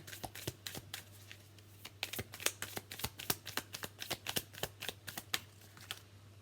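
Tarot cards being shuffled by hand close up, a rapid run of crisp slapping riffles in an uneven rhythm over a faint steady hum.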